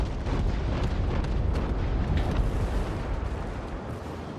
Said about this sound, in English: This is an extreme long-range firing.